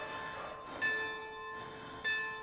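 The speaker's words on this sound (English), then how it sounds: "The old monotone church bells." Old monotone church bells toll twice at a slow, even pace, each strike ringing out clearly with a long humming decay, heard alone without talk.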